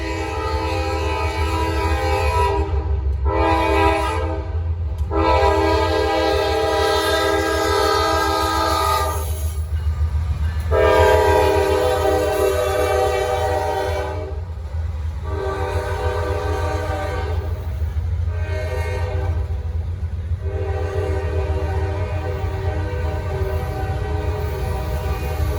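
A Norfolk Southern freight train led by three C6M locomotives passes close by in Gaffney, South Carolina, under a deep diesel rumble, sounding its horn in several long and short blasts.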